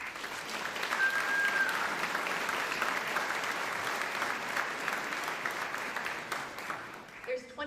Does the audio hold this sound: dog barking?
no